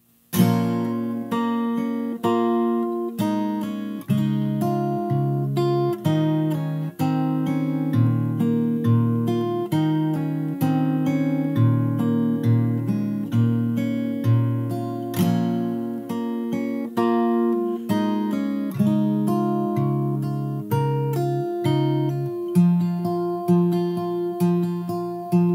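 Fingerstyle acoustic guitar plays the chorus of a song: plucked bass notes and melody over steady chords, close and clear for about 25 seconds, with no voice.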